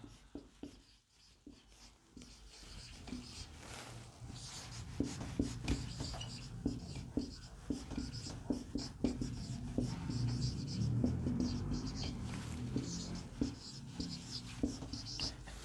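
Chalk or marker scratches across a classroom board in quick, irregular strokes during a tenth-grade geometry lesson, close and moderately loud, with a pause between bursts.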